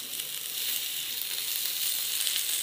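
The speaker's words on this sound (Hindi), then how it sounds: "बाकी जो फिश है उसको भी मैं ऐसे ही शैलो फ्राई कर लूँगी।" Bhetki fish shallow-frying in hot oil gives a continuous, hissing sizzle that holds at an even, moderate level throughout, with no voices.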